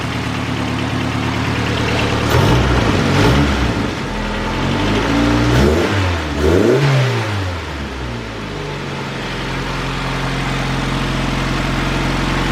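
A Honda Civic engine fitted with an eBay turbo kit runs at a steady idle, then revs up sharply several times with rising and falling pitch before settling back to a smooth, fairly quiet idle, close and loud.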